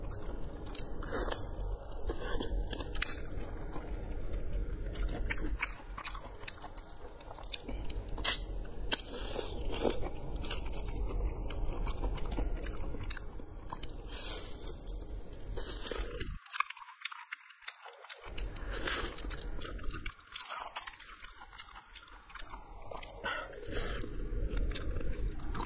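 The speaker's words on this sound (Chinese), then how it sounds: "第一次这么吃生虾" Close, wet crunching and chewing as raw live shrimp with soy sauce are bitten and eaten, with repeated crisp bites and squishy mastication alone, plus a brief pause midway.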